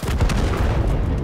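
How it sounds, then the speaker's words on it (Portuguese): A bomb explodes in the video game Total Conflict: Resistance, a loud, dense boom that rolls on for over a second with no voices over it. "Eles mandaram uma bomba pra lá."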